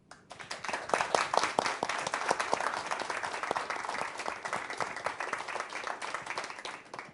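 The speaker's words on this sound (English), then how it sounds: "please join me in applauding for one last time our Griffith University Outstanding Alumni Award winners for 2020" An audience gives sustained, even applause for the 2020 Griffith University Outstanding Alumni Award winners, a steady bed of many hands clapping at moderate volume throughout.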